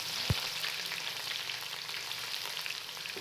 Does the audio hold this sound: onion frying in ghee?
yes